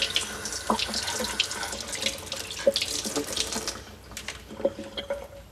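Tap water runs steadily into a sink while a bottle that fell into beach sand is rinsed, with a continuous splashing flow and a few louder clinks and splashes.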